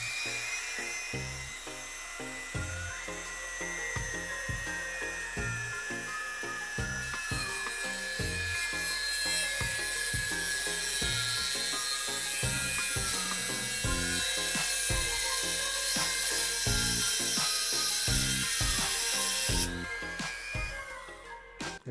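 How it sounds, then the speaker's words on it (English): A Dremel rotary tool cutting through wire whines at a high, steady pitch. It sounds close and loud for about twenty seconds, with a rattling grind as the disc bites, then spins down abruptly near the end, with no talk. "I'm gonna cut it like right here with this Dremel tool here"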